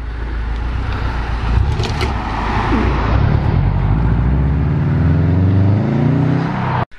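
Subaru WRX car pulling away, a loud nearby engine roar rising as it accelerates and shifts before ending abruptly, with no speech over it.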